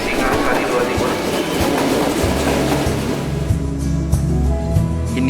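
The Singasari passenger train rolls into a station in Indonesia, a loud close rumble with rhythmic wheel clatter that slows and eases, with low engine tones continuing near the end.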